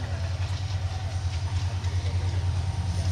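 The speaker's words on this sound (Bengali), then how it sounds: "এত ঘন ঘন ট্রেন আসে।" A passing train gives a steady, low rumble with a faint rhythmic pulsing, heard alone and at moderate loudness.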